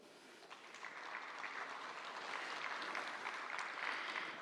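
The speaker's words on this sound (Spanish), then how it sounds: "con un fuerte aplauso" Steady applause fills a hall as an audience greets a speaker at a labour procedural law congress, sounding fairly distant and soft but continuous, swelling slightly toward the end.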